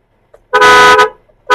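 The horn of a Toyota Kijang LGX petrol gives one long, loud honk, then a second short toot starts right after.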